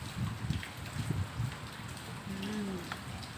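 Rain falls steadily outdoors, a faint, even hiss with scattered drip-like taps, and a brief bird call rises over it near the end.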